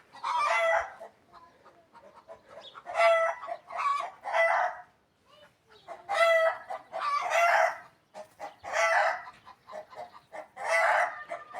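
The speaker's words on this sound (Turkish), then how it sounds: "İşte köydeki hayat. Tavukların çığırışı, yumurta işi." Chickens at a village home cluck and crow loudly in repeated bursts, nearby, with short quiet gaps between calls and no talking.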